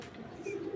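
Brief soft cooing from a brown pigeon with pebble-coloured eyes, a low murmuring coo heard close and alone in a quiet moment.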